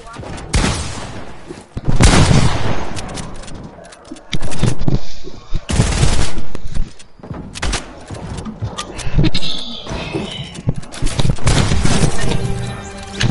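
Gunfire in a video game's creative mode comes in loud, dense rapid bursts, several separate volleys close up, with brief gaps and some voices in between.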